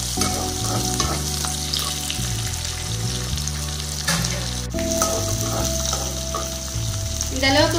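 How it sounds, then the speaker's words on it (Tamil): Shallots, curry leaves and garlic sauté in hot oil with a steady, close sizzle, while a spoon scrapes and stirs through the pan at intervals. "இதை கொஞ்சம் நல்லா வதங்கட்டும்"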